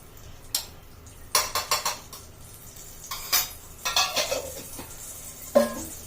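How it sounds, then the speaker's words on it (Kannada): A metal spoon clanks and scrapes in a pan as three spoonfuls of ghee go in, giving sharp close clinks in short bursts separated by quiet pauses, with a faint hum underneath. "ಮೂರು ಸ್ಪೂನ್ ಹಾಕ್ತಾ ಇದ್ದೀನಿ ತುಪ್ಪ"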